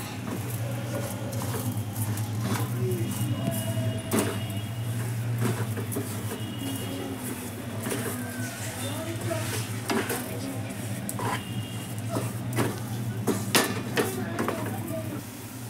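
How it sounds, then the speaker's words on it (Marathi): Sugar goes into a pan of mango sheera and a spoon stirs it steadily, making continuous scraping and clinking against the metal pan over a soft sizzle, with occasional sharper knocks and someone speaking over it. "आता आपण साखर टाकूया."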